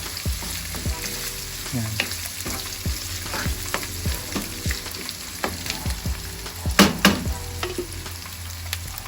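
Ground beef fries in its own rendered fat in a pan, giving a continuous sizzle with repeated spatula scrapes and stirring knocks at an uneven rhythm and a brief louder clatter near the end. A voice speaks briefly.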